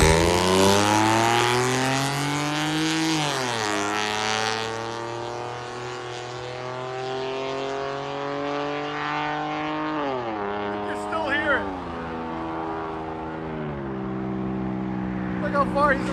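A 2011 Ford F-150 V6 with straight-pipe true dual exhaust drives off, its loud raspy engine note climbing through several gear shifts as it fades into the distance.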